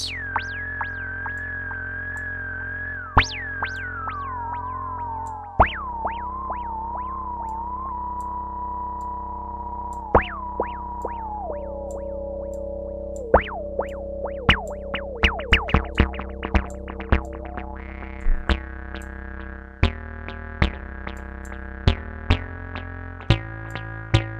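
A sustained tone from an AudioThing SX1000 analogue synth, emulating the JEN SX1000, with a resonant peak that steps slowly downward in pitch, punctuated by sharp clicks and brief blips, growing busier and more percussive toward the end.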